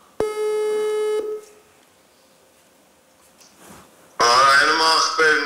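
A steady telephone tone sounds for about a second while a call is being placed during a comedy TV game show. A quiet pause with faint rustling follows, then loud, close speech starts.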